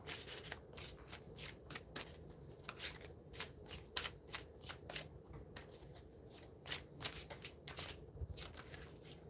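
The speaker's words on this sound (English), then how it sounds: "I'm gonna keep shuffling until I get a clean flip or a clean full." Rapid riffling of playing cards being shuffled, repeated bursts of crisp flapping close up, with no talking.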